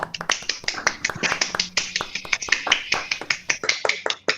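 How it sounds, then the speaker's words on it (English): Scattered applause for a talk at an online session, a few people clapping in irregular sharp claps and snaps, close and uneven, with no one speaking. "we'll ask everybody to give a hand of applause to my team for the talk"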